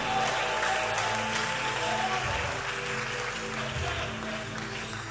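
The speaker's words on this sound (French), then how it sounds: "Acclamez fortement pour Dieu." A church congregation at a Sunday celebration service applauds loudly and steadily. The clapping forms a dense, sustained wash that carries through the whole stretch with no pause.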